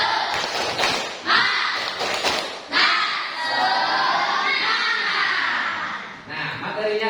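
A primary school class does a rhythmic 'tepuk semangat' spirit clap, sharp bursts of many hands clapping together, loud and close, with children chanting along.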